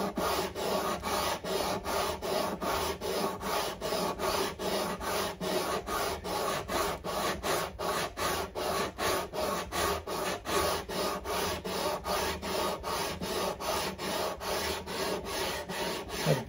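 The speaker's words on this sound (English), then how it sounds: "it needs to be sanded back flush at the correct radius" Coarse-grit sandpaper rubs back and forth over the wooden fretboard of a Washburn acoustic guitar during a refret, a steady rhythmic rasp of quick repeated strokes, close and alone.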